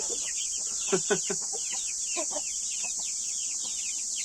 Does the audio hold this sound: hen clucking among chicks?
yes